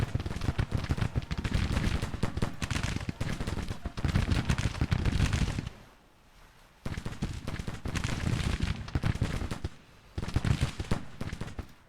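Massed musket fire from advancing Civil War brigades in Grand Tactician: The Civil War, dense crackling volleys in long bursts broken by two brief lulls, fairly loud and without speech.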